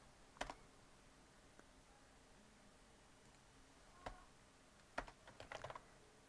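Computer keyboard typing code in quiet bursts: a sharp cluster of keystrokes, scattered single taps, then a faster run of clicks near the end, close and faint with no talk.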